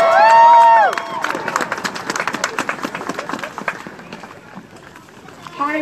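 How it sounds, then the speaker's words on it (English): A crowd at an outdoor healthcare rally in Olympia breaks into applause and cheering after a speaker's voice, with dense clapping that slowly thins out over several seconds. "let's give her a round of applause."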